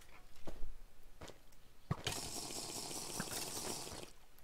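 A steady, rushing waterfall in the video game Minecraft fills the second half of the clip, after a few scattered thumps and soft clicks.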